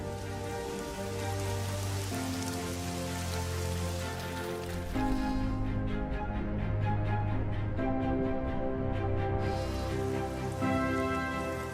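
Heavy Asian monsoon rain pours steadily across open land, a dense, even hiss of drops over a low tonal backdrop, with no voices.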